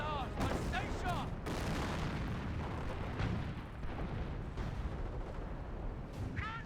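Rumbling artillery barrage in the World War II strategy game Company of Heroes, with continuous low booms and distant explosions layered over battle noise and brief radio-style unit chatter.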